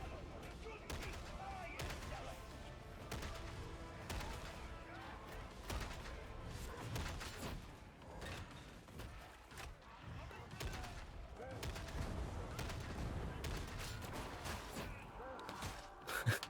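Darktide video game combat with enemy gunners firing: dense, continuous rattling gunfire and explosions fill the mix, with a player talking over the chaotic battle noise.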